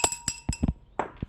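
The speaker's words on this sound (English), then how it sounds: "Got my bell." A small bell gives several quick, bright metallic rings close by, each struck separately in a short burst with brief pauses between the tones.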